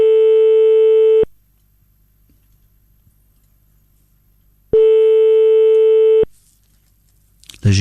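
A telephone line gives two long, steady ring tones with a silent gap between them during a late-night call attempt, loud and clear, followed by a brief rustle.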